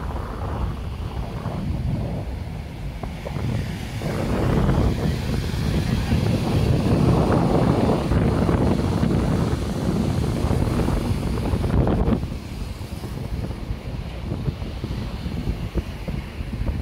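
Rough Atlantic Ocean waves crash near the Maspalomas lighthouse on Gran Canaria, Spain, a heavy, continuous surf roar buffeted by strong wind on the microphone that swells loudest midway, with some talking mixed in.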